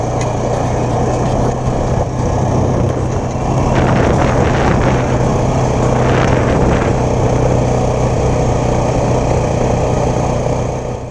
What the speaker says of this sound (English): We'll run along here about 15 miles an hour, maybe 20. The road's kind of bumpy.